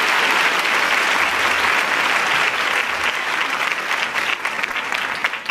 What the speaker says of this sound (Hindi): आप सभी तालियां बजाकर उनका स्वागत कीजिए